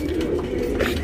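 Tournament pigeons of the Lal Cheeni breed, a male and a female, coo in a low, continuous, throaty murmur at close range in a Bangalore loft. No voices can be heard.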